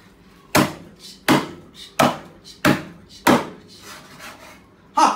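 Lamb ribs being hacked with a dull kitchen knife: five loud, sharp chopping impacts at uneven intervals, each followed by a softer knock, with no talking.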